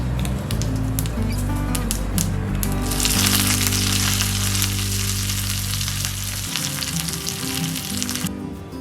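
Mustard seeds and curry leaves crackling in hot oil, a loud, close, continuous sizzle with popping and spattering that swells midway before easing off, heard alone without voices.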